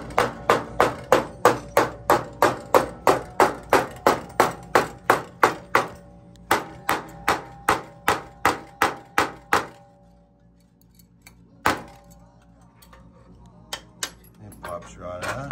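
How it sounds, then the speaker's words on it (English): A big, heavy-headed hammer mushrooms a rivet head on a handmade spur: about twenty quick, evenly spaced metallic blows, then a pause and one last strike, close and alone. "you want to mushroom around that with a big, heavy-headed hammer"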